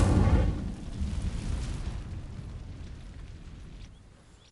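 The Incendio fire spell ignites dry vines in Hogwarts Legacy: a sharp burst at the start, then a crackling, rumbling burn that slowly fades away over several seconds.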